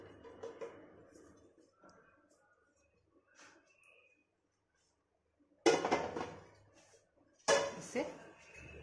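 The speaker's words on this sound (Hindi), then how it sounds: "इसे डाल के हम अच्छे से चला लेंगे।" Parle-G biscuit laddoo mixture stirred in a pan, with soft scraping and clinks of a spoon against metal, quiet at first, then two louder bursts of close scraping.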